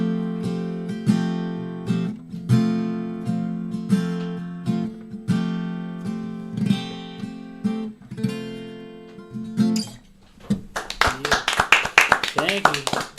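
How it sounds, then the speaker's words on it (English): A few people in a small studio clap in short bursts, sparse and close, with talking over much of it and a denser, quicker round of clapping near the end. "Something so awkward about 3 people in a room with you clapping"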